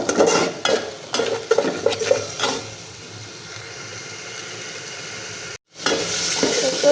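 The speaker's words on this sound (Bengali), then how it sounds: "এখন একটু কষিয়ে নেব ভালো করে একটু কষা কষাবো" Spices fry in fish oil in a pan, with a burst of rhythmic scraping stirs at first, then a steady close sizzle, a brief dropout, and a louder sizzle after.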